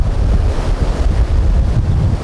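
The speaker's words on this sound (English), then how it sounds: "Those waves are nothing." Ocean waves and strong wind on a Maui shore roar continuously and loudly, with heavy wind buffeting the microphone throughout and no talking.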